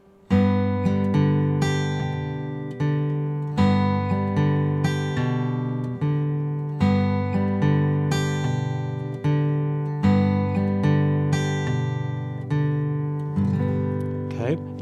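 Travis picking pattern on guitar, thumb alternating bass notes while fingers pluck the upper strings in a steady rolling rhythm, ringing clearly and alone at moderate volume.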